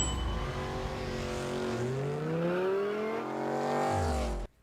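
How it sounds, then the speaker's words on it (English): A loud car engine roars and revs as Dom drives off in the Fast saga, with pitch sweeping up through gear changes, then a final rising rev before cutting off abruptly. "Dom suddenly leaves Han's funeral and drives off in the loudest vehicle on the planet"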